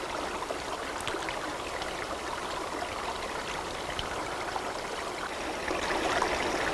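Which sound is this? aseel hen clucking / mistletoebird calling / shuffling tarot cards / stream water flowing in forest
stream water flowing in forest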